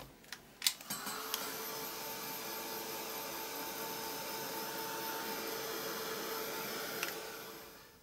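A hair dryer runs steadily on an art journal page to dry the paint. A couple of clicks switch it on, then a constant close, loud airy whir holds for several seconds, with no talking.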